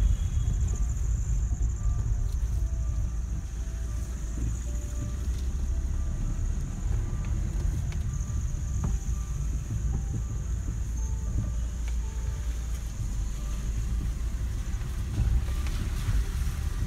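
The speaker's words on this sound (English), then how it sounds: "You can hear the engine inside also." A steady low engine drone hums from inside a used car, with a constant rumble and faint whooshing, continuous and unchanging throughout.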